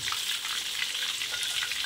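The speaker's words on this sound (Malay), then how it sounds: "Ni kita goreng." Snakehead fish sizzling and crackling in hot oil, a dense, steady frying hiss with small pops throughout, close by and with no talking.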